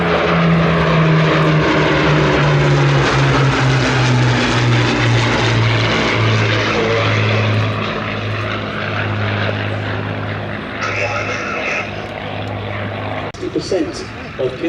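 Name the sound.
propeller aircraft flying aerobatic display at an airshow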